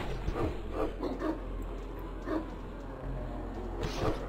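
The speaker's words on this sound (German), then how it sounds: "Gott, sind das viele Hunde." Several dogs bark in a medieval-themed video game, the yelps bursting out in scattered clusters over a steady low rumble, some close and some more distant.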